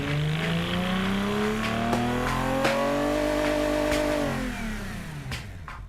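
A car engine in the racing sim Automation revs steadily, its pitch climbing smoothly for about four seconds before easing off, loud and continuous with no talk over it.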